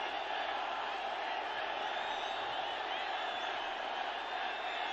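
Football stadium crowd at a SAFF Championship match cheering and roaring continuously, a dense wall of many voices filling the whole stretch at steady loudness.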